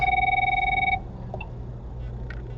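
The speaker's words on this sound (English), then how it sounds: "Sorry, my phone is ringing." A phone rings in a room with one sustained, close electronic ring tone that stops abruptly after about a second. Quiet room noise follows.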